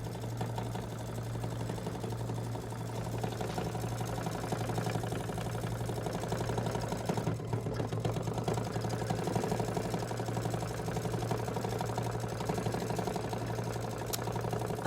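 An embroidery machine runs steadily, stitching a triple stitch over black satin stitching on a bench pillow project, its motor humming in a constant, even whir with a rapid mechanical rhythm and no talk.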